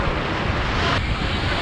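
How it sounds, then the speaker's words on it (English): Ocean surf breaking on a shoreline during an outdoor baptism, a steady broadband wash of waves with wind buffeting the microphone, loud and continuous throughout. "The waves were"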